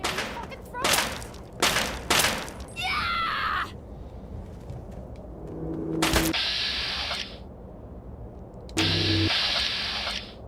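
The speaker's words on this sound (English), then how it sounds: "Who's shooting?" Gunfire in a video game, several sharp shots close together at the start, then mechanical whirring bursts and more scattered loud shots, with game sounds between them.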